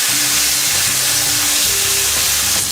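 Carne asada steak sears loudly in a hot pan after being patted dry, a steady close sizzle and crackle with no talk over it.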